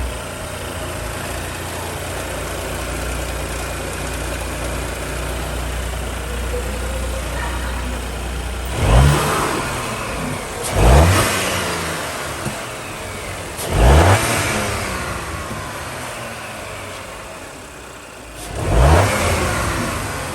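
An RS5 or M2 Competition engine with its stock intake idles steadily, then gets four sharp throttle blips spaced a few seconds apart, each rising quickly and falling back to idle, heard close with no talk.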